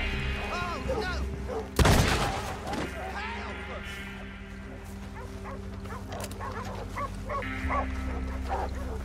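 Dogs bark in the Western video game Red Dead Redemption, several yelping barks overlapping in a steady string under a constant low ambient rumble, with a single loud gunshot cracking through early on.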